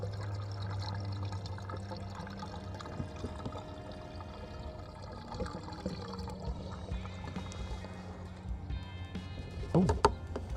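Faint, steady rush of warm water running into a truck camper's water tank, continuous and low, with a brief clatter near the end.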